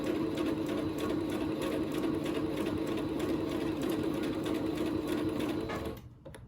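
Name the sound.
sewing machine back stitching a shirt seam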